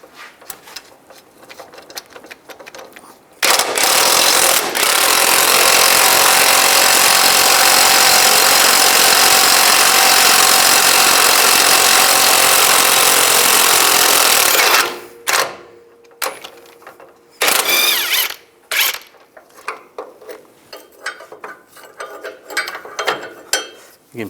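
A wrench loosens and spins off a 19mm nut on the lower ball joint of a 2005-15 Nissan Xterra suspension, giving a long, loud, steady mechanical ratcheting run that breaks into several short bursts near the end.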